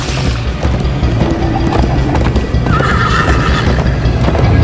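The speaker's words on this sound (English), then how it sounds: "First time on a horse here!" Horse neighing and galloping in the Minecraft: Story Mode video game, loud continuous clip-clop hoofbeats with a whinny over a rumbling game soundtrack.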